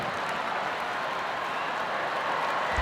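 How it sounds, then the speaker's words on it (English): Crowd at the Westminster Dog Show cheering and applauding during the sporting group judging, a dense steady wash of clapping and voices from a large arena audience, moderately loud and unbroken. "you can hear the crowd. Great crowd here tonight responding."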